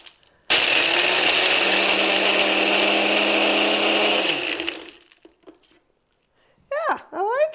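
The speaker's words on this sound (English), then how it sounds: "No sugar, and some ice cubes, and we're going to blend that." A blender whirs loudly for about four seconds crushing ice for a drink with simple syrup, then spins down and stops, followed by quiet clinks and a person starting to speak.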